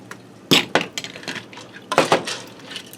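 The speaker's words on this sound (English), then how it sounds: "Now I'll give my pasta a stir to see how it looks" Pasta is stirred in a Ninja Foodi pot with a utensil, producing sharp scraping clinks and knocks against the pot in irregular bursts, close and fairly loud, with quieter scraping between the strokes and no voices.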